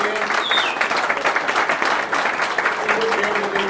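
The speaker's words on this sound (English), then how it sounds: "give them an applause" Audience applause at a high school coaches' banquet, honoring the coaches' spouses: a dense, steady burst of clapping across the room, with a few voices and whistles mixed in.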